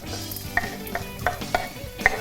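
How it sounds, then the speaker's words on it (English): Close, steady sizzle of onion frying in a pan, with a few light metallic taps of a utensil at irregular intervals; no talking. "you can hear it sizzling already"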